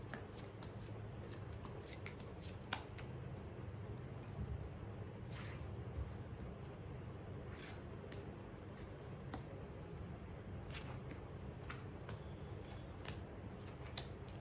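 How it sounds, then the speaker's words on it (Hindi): Tarot cards are shuffled continuously and softly at close range, with a fine riffling texture and frequent light taps and snaps throughout. "while I shuffle the cards for you."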